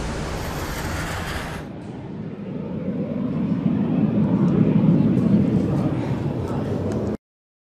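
Valkyrie stealth combat drone launching and flying: a steady, loud jet-engine roar that swells after a brief opening burst and holds until it cuts off abruptly.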